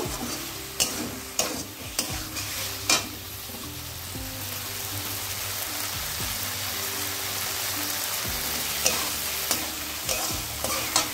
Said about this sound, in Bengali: এবার এই সমস্তটা একসঙ্গে একটু মিশিয়ে নেব।